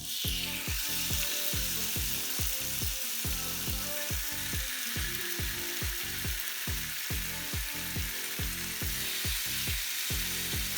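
Chicken satay skewers sizzle in a covered pan on a stovetop: a steady, bright hiss runs throughout over a pulsing, rhythmic crackle.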